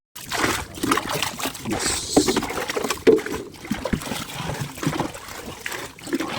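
Water is scooped and poured out of a small fishing boat at sea, a series of irregular close splashes and trickles with gentle sloshing.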